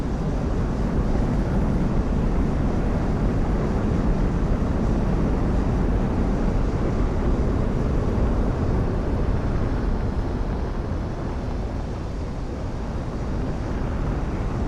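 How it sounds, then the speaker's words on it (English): A plane in the video game Project Wingman roars in with its backwash, a dense, constant wall of loud broadband rushing and rumbling noise that holds for the whole stretch without a break. "That backwash when that plane comes in will send you flying!"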